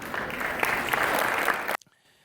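Dense applause from a crowd in New York City Hall, at an Albanian Independence Day celebration, rolls on loudly for nearly two seconds, then stops abruptly into near silence.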